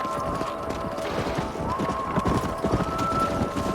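A horse's hooves clip-clop in a steady galloping rhythm in the Red Dead Redemption video game, loud and continuous, with faint voices and occasional whinny-like tones mixed under the hoofbeats.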